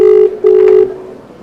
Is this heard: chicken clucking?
no